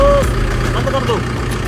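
A tractor engine idles with a steady, low, continuous rumble close by, and people talk over it.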